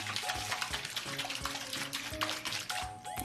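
Water sloshes and rattles inside a slime shaker being shaken by hand, a busy run of splashy knocks and gurgles with an uneven rhythm, close up and fairly quiet.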